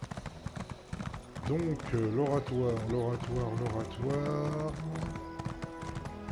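A horse galloping in The Elder Scrolls Online, rhythmic hoof clops running steadily beneath someone speaking French over it.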